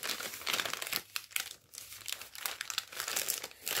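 Paper being folded and pressed flat for an origami dragon, close crinkling and crisp rustling in irregular bursts, with brief pauses between presses and no talking.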